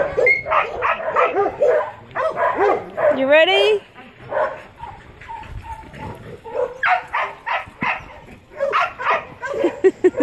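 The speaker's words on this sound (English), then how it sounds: "stirring up some dogs" Several dogs bark and yip excitedly at close range, mixed with a person talking over them and a brief rising whine.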